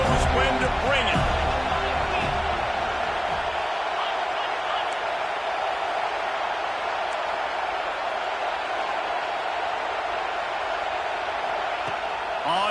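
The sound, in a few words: football stadium crowd cheering before third down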